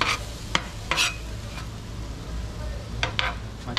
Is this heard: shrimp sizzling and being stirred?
yes